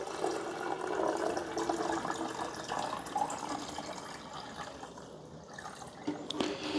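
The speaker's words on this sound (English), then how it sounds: "Now you're gonna pour that water into the iced tea maker," Water pours into the opening of a blue Mr. Coffee TM75 iced tea maker, a steady splashing fill that runs for several seconds and then tapers off with a few drips, no voices.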